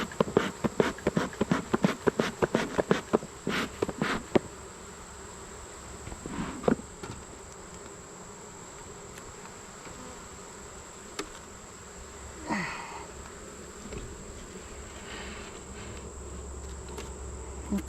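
Honey bees buzz continuously during an August hive inspection, with a steady swarm drone throughout and a cluster of sharp clicks and knocks from handling the hive early on, and no talking.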